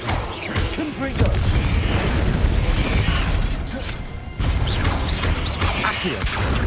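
Confringo fire-blast spell explosions in Hogwarts Legacy on PC, loud mechanical booms and crackling bursts layered over busy combat noise, with a voice speaking over the action.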